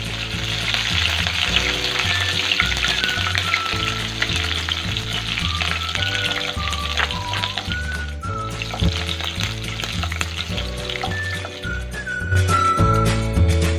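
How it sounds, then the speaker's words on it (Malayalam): Chopped green chillies and curry leaves sizzling in hot oil for a bilimbi pickle, a steady close crackle and hiss with stirring throughout and no talk. "ഇനി ഇതിലേക്ക് അരിഞ്ഞു വെച്ചിരിക്കുന്ന 2 പച്ചമുളക് കേട്ടോ,"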